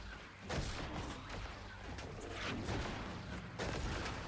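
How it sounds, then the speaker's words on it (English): Huge explosions from an aerial bombardment in the Guild Wars 2 video game, loud booming blasts at the start and end over a continuous rumbling din of battle fire. "That huge explosion there."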